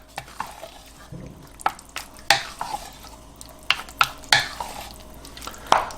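A ground beef, cheese, sour cream and onion mixture for a Dorito beef casserole is folded with a spoon, giving soft, wet scraping and squelching strokes at an uneven pace, close by, with no talking.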